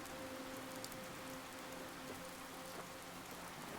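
Soft, steady rain falls on a rainy night by the sea, a faint continuous patter with scattered drops and a quiet low tone underneath.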